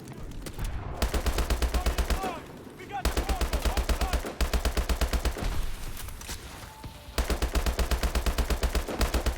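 Rapid automatic gunfire in Call of Duty Advanced Warfare, loud sustained bursts repeating in three long stretches with short pauses between, a voice talking in the gaps.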